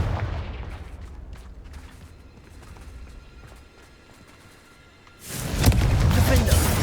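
A Confringo fire spell blasts in Hogwarts Legacy, a sudden loud burst near the end that follows quieter game ambience with scattered thuds.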